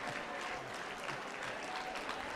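An audience at a university graduation ceremony applauds a graduating student, a dense, steady wash of many hands clapping at once, heard at a distance and fairly soft throughout.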